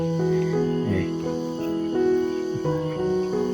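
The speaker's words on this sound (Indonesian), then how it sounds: "Nah, kerunguan suara tonggeret gini." Cicadas buzzing on a hill in the late afternoon, a steady tonal drone with pulsing shifts in pitch, fairly close and alone without talk.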